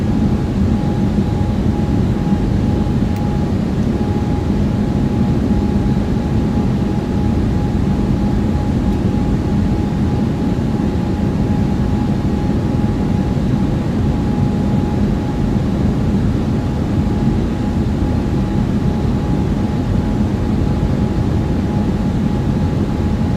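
Airliner engines climbing after takeoff in a flight simulator on a VATSIM flight, heard as a steady, loud, continuous drone with a faint constant tone, unchanging for the whole stretch and with no talking.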